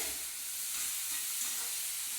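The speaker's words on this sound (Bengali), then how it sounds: "এটা ভাজা প্রায় হয়েই এসেছে" Something frying in a pan during Bengali home cooking, giving a steady, soft hiss and crackle that runs unbroken and close with no talk.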